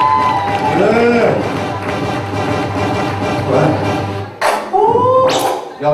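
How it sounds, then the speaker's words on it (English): Crowd cheering and clapping for a comedian at a charity comedy night, loud and sustained under a voice on a mic, with short bursts of whoops near the end. "Now give it up for Sergio"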